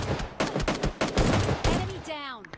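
A short burst of rapid gunfire from a battle royale video game, several sharp close shots in quick succession, ending with a fading ringing tail.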